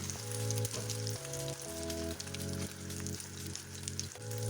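A date omelette fries in a pan over a medium flame, giving a steady, close sizzle with soft crackling. The sound runs unbroken and no one speaks.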